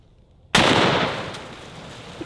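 A single 45-70 rifle shot with a 325 grain Hornady FTX round fired at a watermelon outdoors: one sudden loud crack followed by a rolling echo fading over about two seconds.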